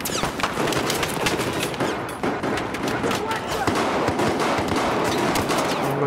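Desert Eagle pistol fire in the shooter game Gun Master, with rapid sharp gunshots crackling one after another throughout, loud and close amid battle noise.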